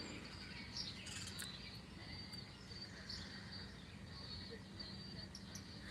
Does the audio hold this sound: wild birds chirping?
yes